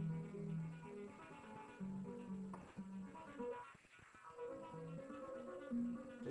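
Filter DSP effect on a Citronic MPCD-S6 CD deck sweeping over playing music, the tone thinning and shifting as the filter moves, steady and moderately loud throughout with no voice.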